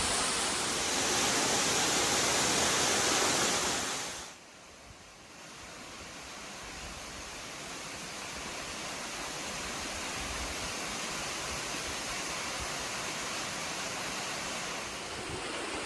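Steady roar of a waterfall in the Grand Canyon, a broad rushing wash of falling water that is loud at first, then drops away sharply and settles into a softer continuous hiss.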